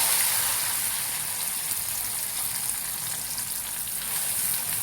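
Chopped onion and tomato frying in a pan, giving off a continuous, even sizzling hiss at moderate loudness, alone and without pauses.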